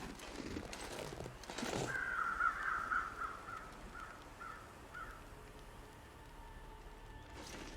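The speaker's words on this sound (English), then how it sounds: "the sound of the crows that were already in the air" Several crows caw in The Long Dark in a loose series of short, harsh calls at moderate distance over a quiet, steady background hiss, with no voices.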